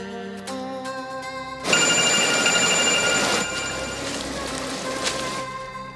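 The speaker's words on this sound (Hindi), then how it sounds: "फोन क्यों नहीं चक रहे?" A telephone ringtone chimes with a bright repeating melody, joined partway through by a loud burst of noise like rain while the tone continues, with no talking.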